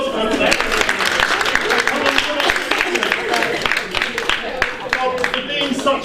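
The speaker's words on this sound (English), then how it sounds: "round of applause for her" An audience gives a round of applause, a dense, steady wash of many hands clapping throughout, fairly loud and close, with some voices mixed in.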